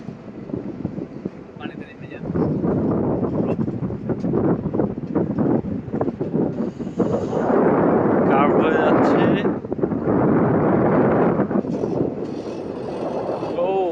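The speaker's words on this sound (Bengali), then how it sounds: "বাইরে প্রচুর বাতাস" Strong wind buffets the microphone on an open ferry deck at night in Sydney, a rough roaring gust that swells and fades, with people talking over it.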